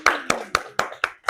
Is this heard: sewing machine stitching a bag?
no